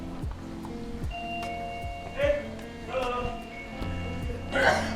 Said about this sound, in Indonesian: Misalnya gue bel.